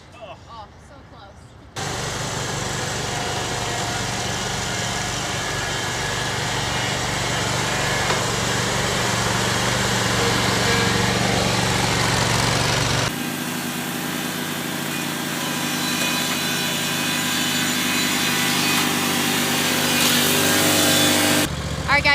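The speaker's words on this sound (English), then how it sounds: "It's field mow week, so I'm gonna go ahead and take care of this whole field with this baby here." Steady drone of a riding mower engine cutting a large field, loud and close throughout with a shift in pitch partway through and no talk over it.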